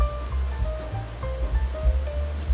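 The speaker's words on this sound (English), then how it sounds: "Whisk to dissolve." Dry active yeast is whisked into a cup of warm water for BBQ pork bun dough, making close, wet sloshing and swirling with light clinks of the whisk against the bowl, continuous and uneven.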